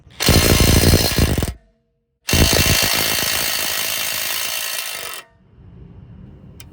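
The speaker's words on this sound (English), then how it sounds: "Now we're going to loosen the 2 nuts on the knuckle just until they start spinning." Loud, close buzzing rattle of an impact wrench loosening the knuckle nuts on a Tesla Model 3/Y suspension, two long bursts with a short pause between them, then a fainter whir as it spins down.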